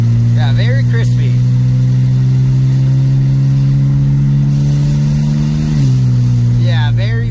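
A tuned BMW 335i turbo accelerates in sport mode with a loud, steady engine drone, its pitch climbing and then dropping sharply at a crisp gearshift, while people talk over the car.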